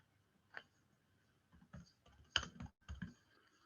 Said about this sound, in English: I'm typing as I'm talking